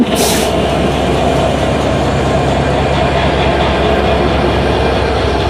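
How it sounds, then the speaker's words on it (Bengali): Jahanabad Express passenger train pulling away from a station, a loud, steady rumble of railcars with rhythmic wheel clatter running throughout, close and continuous with no talking. "আমাদের জাহানাবাদ এক্সপ্রেস এখন হচ্ছে ছেড়ে দিয়েছে।"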